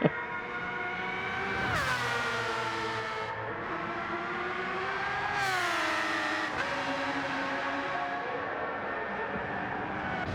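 Sim racing cars on track in a qualifying session, engines whining with harmonic revs that rise and drop through gear changes, a sustained loud drone with cars passing close.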